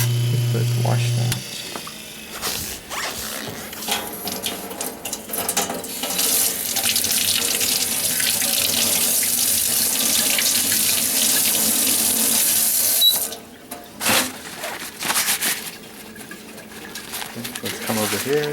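Tap water runs steadily into a sink to rinse a dental provisional crown, a continuous broadband hiss that fills the clip with a brief break near the end, and a voice speaks over it.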